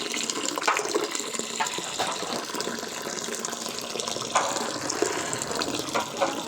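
Chhana water is poured slowly into a cooking pan, giving a steady watery splashing and trickling that runs throughout at moderate level, with a few brief louder splashes and no talking.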